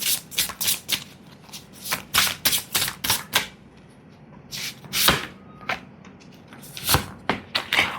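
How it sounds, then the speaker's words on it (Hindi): Close up, a deck of tarot cards is riffled and shuffled in quick bursts, broken by short pauses and single cards being drawn, with crisp papery flutters and snaps and no voices. "now let me pull some more cards"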